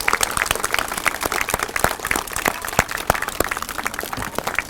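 Audience applause at a community event in Quincy, a dense, steady wash of many hands clapping for the full stretch at moderate loudness, with no speech over it.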